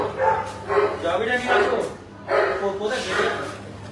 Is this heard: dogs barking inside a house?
yes